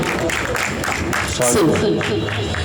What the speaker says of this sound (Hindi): एक बार जोरदार तालियां शानदार मंच के लिए और श्रोताओं के लिए।